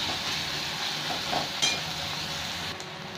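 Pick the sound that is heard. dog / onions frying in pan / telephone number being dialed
onions frying in pan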